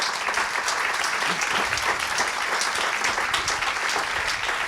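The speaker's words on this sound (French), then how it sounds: "Je pense qu'on peut les applaudir." Audience applause after a panel at a French business conference on market strategy, with dense steady clapping from a seated crowd that continues evenly throughout.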